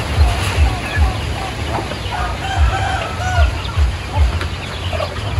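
Native chickens and chicks at a backyard poultry farm in General Santos City, with repeated low clucking pulses and scattered chick peeps, close by and fairly steady.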